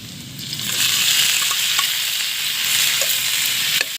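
Tomatoes frying and being stirred in a pan for pinakbet, a steady broadband sizzle with scraping stir noises throughout, close and fairly loud, no talking.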